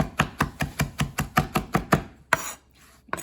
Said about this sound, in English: I'm going to chop them this way as well